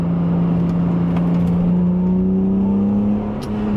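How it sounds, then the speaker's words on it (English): A BMW Z3M Coupe's normally aspirated S54 engine drones loudly and steadily while driving, its pitch creeping slightly upward as the car pulls along, with no talk. "1M doesn't sound anything like this normally aspirated S54"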